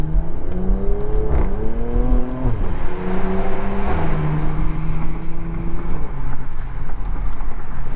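Porsche Macan engine revved hard in second gear toward 4,000 rpm, climbing and dropping in pitch through several quick shifts, loud and close under a steady wash of wind noise.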